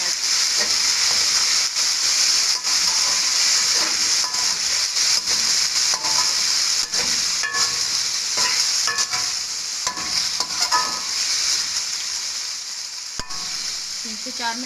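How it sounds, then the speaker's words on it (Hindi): Chicken added to golden fried onions in a pan, hissing and sizzling steadily while being stirred, with scraping strokes, loud and close throughout. "अब हम इसमें शामिल करेंगे चिकन को हम इसमें भूनेंगे 3 से 4 मिनट।"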